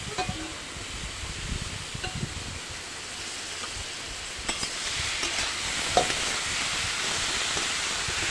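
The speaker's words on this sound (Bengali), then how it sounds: "কাঁচা লঙ্কাটা ভাজা হয়ে এলে এবার আমি দিয়ে দেব গ্রেট করা সবজিগুলো" Grated vegetables with green chilli and spices frying in hot oil for a vegetable chop, a steady close sizzle with occasional stirring scrapes and clinks throughout.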